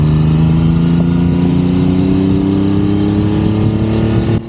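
A classic 1970s Triumph Trident three-cylinder motorcycle engine runs steadily at close range, a loud, even idle with a slight rise in revs and a warbling low drone throughout, ending abruptly.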